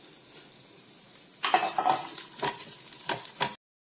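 Coconut pieces, cashews and raisins frying in ghee sizzle loudly after a quiet start, with a spoon stirring and scraping the pan in uneven strokes, close up and without talk.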